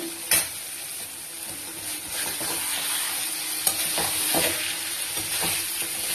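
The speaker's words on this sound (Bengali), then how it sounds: "এবার এই মাছটা পুরো মশলার সঙ্গে ফ্রাই হবে" Prawns fry slowly in a spice masala, giving a continuous close sizzle with repeated spatula stirring and scraping against the pan and a few sharp clacks, no voices.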